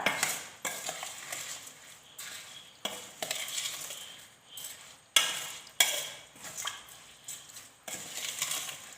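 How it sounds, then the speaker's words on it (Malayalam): Rice is stirred with water in a bowl for a batter, producing repeated swishing, gritty sweeps in uneven strokes with a few sharper knocks against the bowl, fairly quiet and free of talk. "വെള്ളവും കൂടെ ചേർത്ത് ഇത് നന്നായിട്ടൊന്ന് ഇളക്കി യോജിപ്പിച്ച് വെക്കാം"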